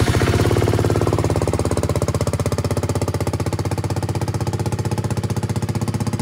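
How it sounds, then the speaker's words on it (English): Classic BSA Gold Star motorcycle engine running with the exhaust baffle removed, a loud steady rapid thumping idle close up that stays even throughout with no talk. "Took the baffle out the back so it sounds more like a gold star or a motorbike should"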